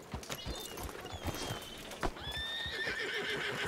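Horse whinnying and clip-clopping hooves in a Peaky Blinders-style roleplay video game, a loud neigh cutting through steady hoofbeats over constant ambient background noise.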